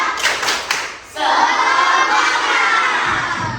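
A group of schoolchildren in a classroom bursts into a rhythmic spirit clap, a few sharp claps first, then loud sustained shouting and cheering that carries on near and bright to the end.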